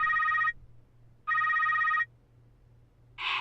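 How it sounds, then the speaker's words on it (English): Incoming phone call ringing in the video game Secret World Legends: two loud electronic trill rings, each about three-quarters of a second, separated by a pause, followed by a brief burst of a different tone over a low steady hum. "We've got a phone call coming in from her"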